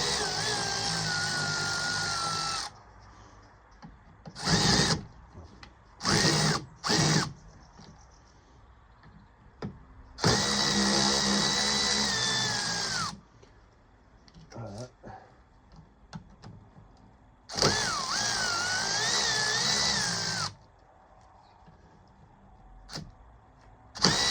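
Power screwdriver unscrewing the Torx screws on the diesel fuel filter cover of a Golf 6 2.0 TDI. Three long, close, steady whirring bursts are separated by quieter clicks and handling noises.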